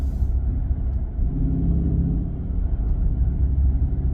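A 2023 Chrysler 300C with its 6.4-liter HEMI V8 pulling hard under acceleration, heard from inside the cabin as a deep, steady engine rumble with rising revs and no talking.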